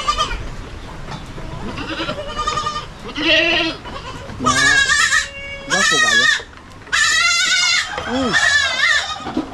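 Young goats bleat repeatedly on a farm with a herd of around twenty kids, several loud wavering calls close by in bursts, with brief speech mixed in.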